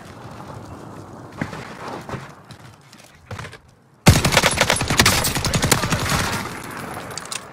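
Gunfire in a shooter video game tournament match, starting as scattered muffled shots and then bursting into loud rapid automatic fire that continues, with no speech over it.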